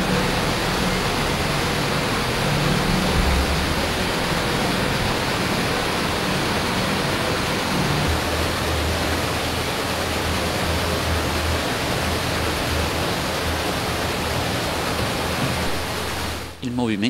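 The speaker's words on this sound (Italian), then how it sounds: "La forza motrice era data dall'acqua delle rogge, che facevano girare le pale." Irrigation-channel water turning the paddles of a mill: a loud, close, unbroken rush of flowing water that holds steady for the whole stretch.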